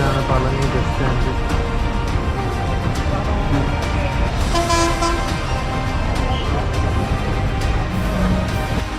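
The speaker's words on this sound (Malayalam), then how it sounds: "ഇതാണ് പളനി ബസ് സ്റ്റാൻഡ്" Busy traffic at Palani bus stand, with repeated vehicle horns honking over a continuous rumble of bus and car engines. A few faint voices sit under the din.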